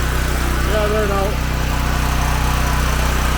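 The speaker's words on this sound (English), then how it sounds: "Generator's running." A portable generator engine runs steadily at a close, constant drone with an even rhythmic hum, while wind noise from Hurricane Fiona at Holland Cove, PEI rushes over it and a brief tonal whine rises partway through.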